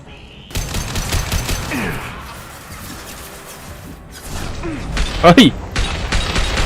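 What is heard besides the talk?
gunfire in the video game Mass Effect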